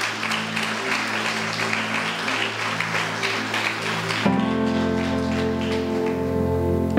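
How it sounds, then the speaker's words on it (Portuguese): A church congregation claps and cheers for several seconds, then the applause gives way abruptly to sustained keyboard chords and droning music that carries on alone. "Pode glorificar e aplaudir o Senhor"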